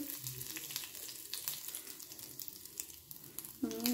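Soft, steady sizzling of curry leaves and asafoetida frying in hot oil, fairly quiet and close, with a brief clatter near the end.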